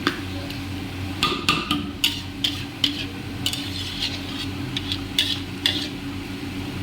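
A utensil scrapes and clacks against a pan in irregular strokes while tomatoes sizzle steadily underneath, close and clear.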